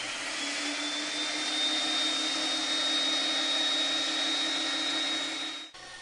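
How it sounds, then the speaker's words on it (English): A homemade jointer cutter head spins steadily at higher speed on variac-controlled voltage, a constant loud whirring hum with a faint rising whine, running alone before cutting off abruptly near the end. "Here, spinning it up for the first time."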